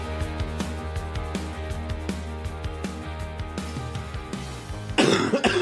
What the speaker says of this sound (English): Start recording with me just having a coughing fit.